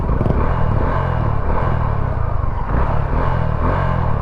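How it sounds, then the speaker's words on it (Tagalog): A motorcycle engine runs steadily close by, a constant low rumble with slight revving swells and mechanical clatter throughout, with no voices. "Naririnig nyo na ba na mayroon ng tunog yung motor natin?"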